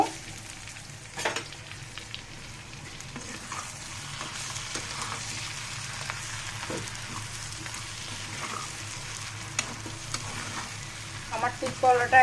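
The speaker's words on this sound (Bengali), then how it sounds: "এই পর্যায়ে আমি ধনে পাতা দিয়ে দিব ধনে পাতা দিয়ে নাড়াচাড়া করে দিব" Bitter gourd frying in a pan with coriander leaves while being stirred, a loud continuous sizzle broken by scraping stirring strokes, close and steady throughout.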